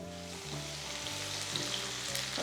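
Onions frying in hot oil for chicken biryani, with a continuous hissing sizzle held at an even level close by and a low tonal hum beneath it, no speech.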